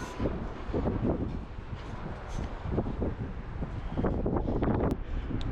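Strong night wind at the top of a tall construction crane buffets the microphone in loud, uneven gusts, with occasional sharper rattling bursts.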